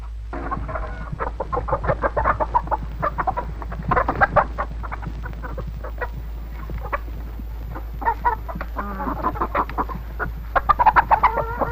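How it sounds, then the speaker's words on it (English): Chickens at a poultry farm cluck repeatedly in short rhythmic bursts, several birds close by and fairly loud, over a constant low electrical hum. "Poultry farming is yet another lucrative activity."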